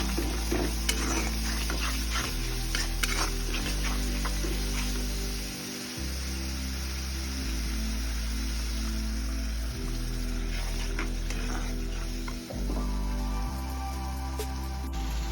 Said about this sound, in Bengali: হলুদ দিয়ে দিলাম জিরের গুঁড়ো আর কালারের জন্য একটু লঙ্কা গুঁড়ো দিয়ে মশলাটা ভালো করে কষাতে হবে